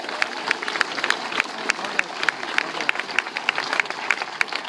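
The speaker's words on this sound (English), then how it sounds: "So give them a round of applause." Audience applause at a band center dedication ceremony: sparse, scattered handclaps over a steady, murmuring room noise, continuing evenly for several seconds at moderate loudness.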